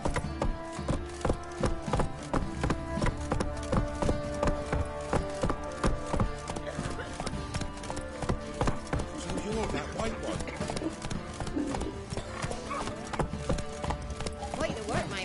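Horse hooves clip-clop in steady, even rhythm throughout in The Witcher 3: Wild Hunt, close and prominent over a dense background of music and ambience.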